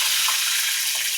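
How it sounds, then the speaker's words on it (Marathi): Curry leaves sizzle and crackle in hot oil in a pan, a loud, close, continuous hiss with small spitting pops and no voices. "आता आपलं तेल तापलंय, त्याच्यामध्ये मी टाकते कढीपत्ता"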